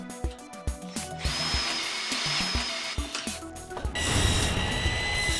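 A power drill drives self-tapping screws through metal track into 1x4 wooden spreaders for insulated concrete forms, heard as a run of short, close, sharp bursts followed by a longer steady whine at a louder, higher pitch.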